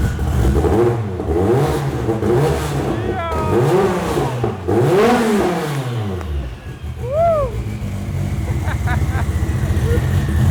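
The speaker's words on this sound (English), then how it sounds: "You gonna blip the throttle?" A car engine in a showroom-style shop revs in repeated throttle blips, each rising and falling sharply, loud and close, with a lower idle between bursts and people talking around it.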